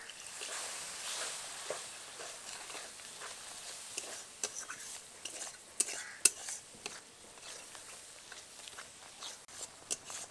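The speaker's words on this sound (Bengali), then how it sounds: "সমস্ত উপকরণ দেওয়ার পর একটুখানি নেড়ে নিয়েছি" A spoon stirs a spice mixture of Kashmiri chili powder, salt and a little water for hilsa fish curry in a pan, soft scraping and faint clinks with a gentle sizzle, quiet and close.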